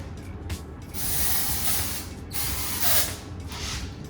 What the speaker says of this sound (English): take my dry hair shampoo from Redken, and I'm gonna use it as a texture spray. So lift the hair and spray from far away